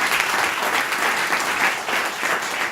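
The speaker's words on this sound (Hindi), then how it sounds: "एक बार जोरदार तालियां हो जाए मेरी प्लान के लिए।" Steady applause from a seminar audience fills the room, many hands clapping at a constant moderate level with slight pulsing swells and no voices standing out.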